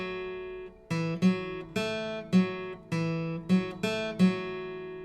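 A guitar plays the opening chord progression of a song in a steady strummed rhythm, each chord struck twice with bright ringing strings, close and clear with no voice over it.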